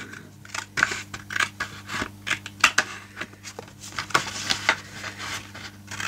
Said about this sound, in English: I'm going to trim off this bit